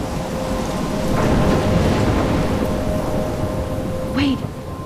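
Heavy rain and rumbling thunder from a thunderstorm in the game Life is Strange, a dense steady wash of rainfall with a low rolling roar and a brief higher whistling sound near the end.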